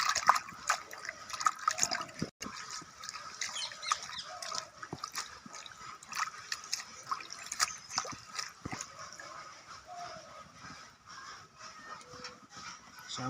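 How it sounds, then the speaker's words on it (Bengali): Bitter gourd leaves being washed by hand in water, a stream of quiet splashes and drips with irregular sloshing close by, no talk over it. "ভালো করে ধুয়ে নেবেন, নাহলে বালিতে কিসকিস করবে,"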